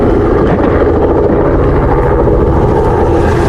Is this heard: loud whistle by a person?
no